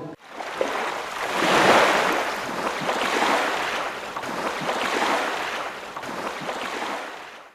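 Steady rushing of waves and surf, swelling and receding in broad surges, with wind noise over the water and no voices.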